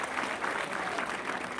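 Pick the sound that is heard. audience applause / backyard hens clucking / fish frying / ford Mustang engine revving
audience applause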